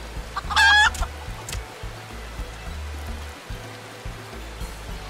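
Chickens in the video game Final Fantasy XIV, with a brief loud cluck near the start and softer clucks after it over a steady low ambient hum.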